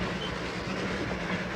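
The Darjeeling Himalayan toy train runs past, a brief, moderately quiet rolling rumble with faint rhythmic rail clatter and no talk.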